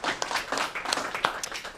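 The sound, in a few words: audience applause at a school board meeting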